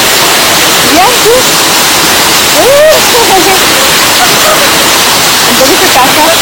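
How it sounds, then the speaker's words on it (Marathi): A small waterfall where children play, a loud steady rush of falling water filling the scene, with children's voices and chatter over it. "एकदम छोटासा धबधबा आहे."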